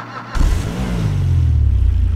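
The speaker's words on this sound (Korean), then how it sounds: "제가 엔진 소리도 들어볼게요." A Zirconium Stratum 2.6 GT wagon in GTA 5, a 2600cc sedan-class car, starts up and revs, its engine rising in a loud close roar and then holding a steady drone.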